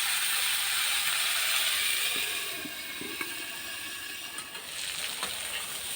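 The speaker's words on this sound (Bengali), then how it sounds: "ফুলকপিটা খানিকটা ভাজা হয়ে গেছে, আর একটু টাইম নিয়ে ভেজে নেব ভালো করে।" Cauliflower and potato pieces frying in oil in a covered pan for a home-style rohu fish curry, giving a soft, steady sizzle and hiss that dips slightly midway, faint and close.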